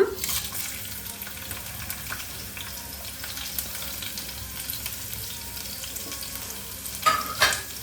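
Dry red chillies, cumin and garlic fry in hot oil as a tempering for a drumstick curry, giving a steady close sizzle with soft stirring scrapes and a brief louder clatter near the end.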